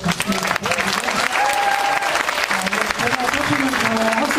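Loud, continuous clapping from an audience after a lecture at a city lifelong-learning festival, with a voice and faint tones sounding underneath the dense applause.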